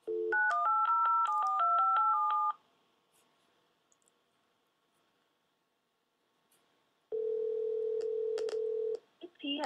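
Touch-tone keys beep rapidly in a quick string while an outbound call is dialed, then silence, then a steady ringback tone and a few short beeps, all clear and close.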